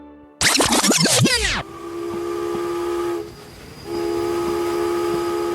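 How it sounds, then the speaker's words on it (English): Steam train arriving at a station: a loud shrill steam whistle blasts for about a second, then a steady hiss and hum of steam with a short break. "A train has just arrived in Cedar Rapids, Iowa"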